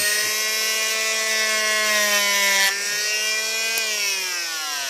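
A power tool cuts a slot for the fin of a carved fish decoy, giving a steady, close, high-pitched whine whose pitch sags and rises slightly as it bites, with no voices.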